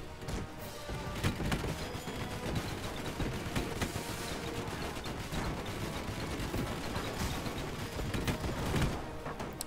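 Airships trade fire in the strategy game Airships: Conquer the Skies, a steady, faint rattle of rapid gunshots with scattered thumps and crashes continuing throughout the battle.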